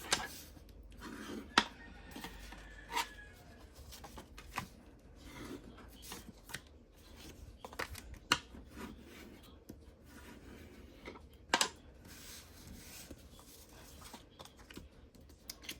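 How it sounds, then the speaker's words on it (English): A stamping tool burnishing paper card on a tabletop, heard as soft intermittent rubbing and scraping strokes with a few sharper taps, fairly quiet and close, with no talking. "And then we go ahead and burnish these again."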